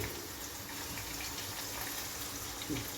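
A steady stream of water pours and splashes continuously at close range onto cowpeas being cooked, with no voices.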